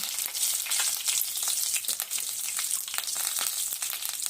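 Garlic, green chilies, curry leaves and chopped onion frying in hot oil with cumin for a potato curry, a loud continuous crackling sizzle close by with stirring sounds, no voices.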